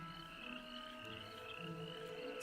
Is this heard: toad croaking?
yes